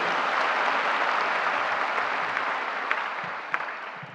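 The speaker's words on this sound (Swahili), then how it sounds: "Tumpigie makofi." A crowd at an Akorinu prayers day event claps in sustained applause, a dense steady wash of hand claps lasting the whole stretch with a few sharper individual claps near the end.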